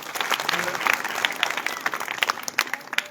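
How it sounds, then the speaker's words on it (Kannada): A crowd at a temple sermon claps together in a dense burst of applause, loud and continuous, with a few louder individual claps standing out. "ಜೋರಾಗಿ ಚಪ್ಪಾಳೆ ತಟ್ಟೋರಿಗೆ"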